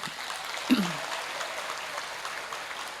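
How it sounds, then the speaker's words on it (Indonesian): Applause from students gathered at a senior high school event in Yogyakarta, a steady broadband patter sustained across the whole stretch with a brief louder burst early on, fairly faint and heard alone. "Tepuk tangan dong."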